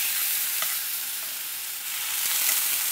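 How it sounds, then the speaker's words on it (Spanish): Eggplant slices frying in coconut oil make a steady, bright sizzle for the whole stretch, with soft crackles and a few stirring taps. The sound is close and continuous, with no talk. "ahora las estoy pasando por un poquito de aceite de coco para que se cocinen bien"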